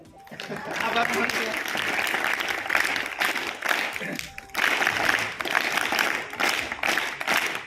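Sustained applause from an audience at an Indian Independence Day event, a dense, steady wash of many hands clapping throughout, briefly dipping before resuming at full strength.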